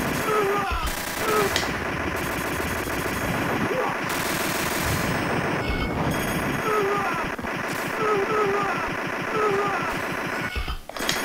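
Rapid, continuous gunfire with repeated heavy blasts from grenade explosions in a light gun arcade shooter played on an emulator, loud and dense throughout with brief booming bursts at intervals.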